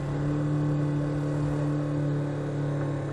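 A car engine held high at around 4,500 RPM with a fault, giving a steady, sustained mechanical whine and hum at constant pitch, close and moderately loud, with no talking.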